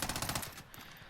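Rapid automatic gunfire from a weapon in Call of Duty: Warzone, a loud, dense burst of quick shots that cuts off after about half a second, leaving a fainter tail.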